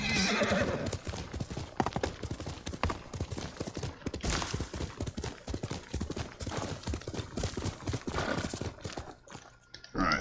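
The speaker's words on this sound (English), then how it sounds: "Horse. Horse. Oh, good horse." A horse in the video game Ghost of Tsushima gallops with rapid, loud clip-clop hoofbeats, and a whinny rises near the start and again near the end.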